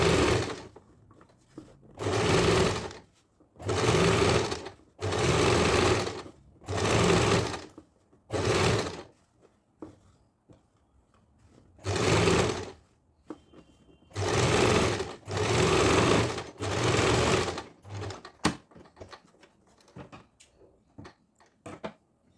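Sewing machine stitching lining onto main fabric, running in a series of loud, even bursts of a second or so each, separated by short pauses, with a longer break midway.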